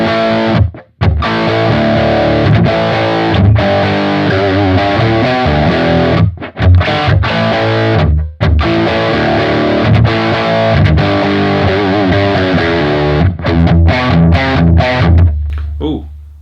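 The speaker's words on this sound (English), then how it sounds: "But I want to try the Friedman style amp," Distorted electric guitar runs through a Friedman-style amp model on a Spark amp, playing loud, chugging metal riffs with brief stops and restarts, dense and saturated, with no talking over it.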